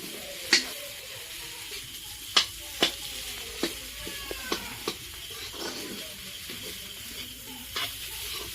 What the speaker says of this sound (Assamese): ভাজি আছে ধুনীয়াকৈ